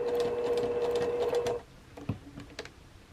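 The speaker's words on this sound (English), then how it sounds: "I'm going to stitch right on that line, that inside edge" A sewing machine stitches a quilt block seam with a steady close mechanical whir for about a second and a half, then stops, leaving a few light clicks and handling sounds.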